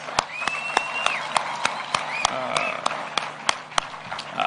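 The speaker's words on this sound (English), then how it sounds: "Can we clap for those girls?" An audience claps for a group of girls who are content creators, giving scattered, distinct hand claps over a murmuring crowd, with a brief whistle-like tone heard near the start.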